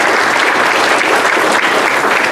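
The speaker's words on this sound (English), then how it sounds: "So give yourself a big round of applause." A room full of guests at a county chamber of commerce community breakfast claps loudly and steadily, a thick, even wash of applause that carries on without pause and with no talking over it.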